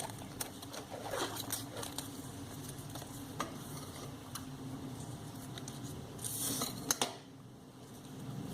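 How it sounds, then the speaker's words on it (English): Scissors snip through a long strip of adhesive tape while wires are wrapped for handmade paper water lily flowers; soft scattered cuts and rustles sit close and quiet, ending in a brief louder tearing burst. "So cut another long piece from the tape."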